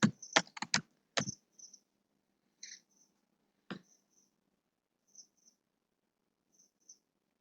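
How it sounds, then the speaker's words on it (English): A quick flurry of keystrokes on a computer keyboard, then sparse single clicks and light taps spaced out over several quiet seconds, close and fairly soft, with no voices. "Let me just type it."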